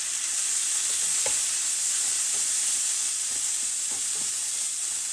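Tofu steaks fry in a pan over a little less than medium heat, a steady, even hiss of sizzling oil with a few faint scrapes and pops, without any talk.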